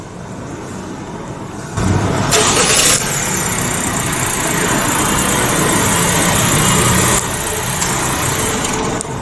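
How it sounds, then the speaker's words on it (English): A 2024 Honda CR-V 1.5 turbo engine, started remotely indoors, turns over and settles into a steady idle, running continuously at moderate loudness with a slight shift partway through. "This comes with a remote engine start standard."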